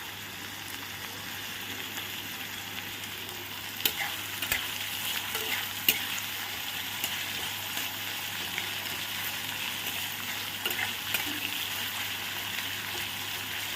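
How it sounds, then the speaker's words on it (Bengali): Onions frying in a pan with a little salt, a steady sizzle running throughout with scattered crackles and stirring clicks, close and fairly loud, no talk. "পেঁয়াজটা হালকা বাদামি করে ভেজে নেব।"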